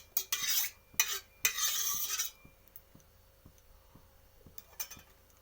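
Oil being stirred around in a kadai, with several close bursts of scraping and rubbing against the metal followed by light regular ticks and taps, no talking.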